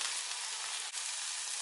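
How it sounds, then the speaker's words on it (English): Jerk prawns sizzle on a very hot grill, a steady, bright hiss of frying that holds up close and even throughout. "So just leave them to just sizzle quickly"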